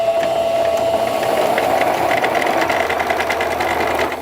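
Sewing machine stitching fabric along a folded hem right to the end with a backstitch, a loud continuous close whirring hum with a rapid mechanical rattle that eases off at the very end.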